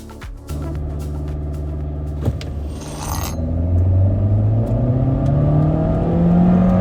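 A turbocharged 2022 Honda HR-V engine with a CVT accelerates smoothly, its pitch rising steadily in one long continuous pull with no gear-shift breaks, heard from inside the cabin.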